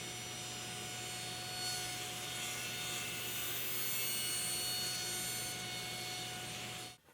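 A saw blade cuts steadily through wood with a continuous rasping, humming tone from a running motor, close and fairly even throughout before stopping abruptly at the end.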